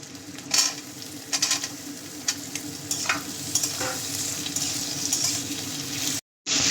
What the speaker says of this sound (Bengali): পেঁয়াজটা হালকা করে ভেজে নিয়েছি, এখন কাঁচা টমেটোগুলো দিয়ে দেবো